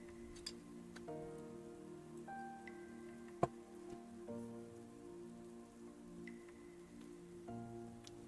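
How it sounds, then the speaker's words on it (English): Soft rain patters and drips in a calm ambient music track, with gentle sustained tones and occasional light ticks, all quiet and low in the background. "it has rain sounds too"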